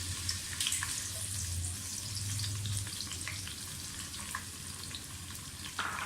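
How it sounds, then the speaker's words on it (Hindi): Chopped onions frying in hot cooking oil in a wide saucepan give a steady, close sizzle with crackling throughout, and no talking over it. "कुकिंग ऑयल गर्म हो गया, अब इसमें प्याज डाल दें।"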